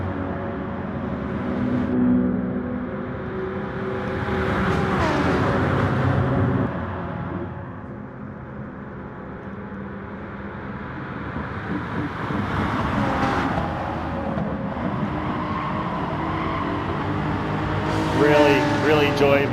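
A BMW race car engine in Gran Turismo Sport drones continuously, rising and falling in pitch through gear changes and corners, loud and close throughout with a voice talking over it.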